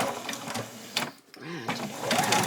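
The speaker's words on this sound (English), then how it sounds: "I'm just going to stitch them all the way along" A sewing machine stitches fabric for an apron with a fast, close-up mechanical whirr and needle clatter. The sound stops briefly partway through and then resumes, with faint voice sounds in between.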